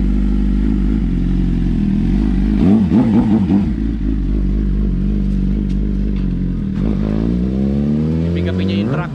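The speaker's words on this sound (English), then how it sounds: "He's warming up the engine." A boat engine warming up idles with a steady low rumble, rising and falling in pitch as it revs a few times, with voices talking over it.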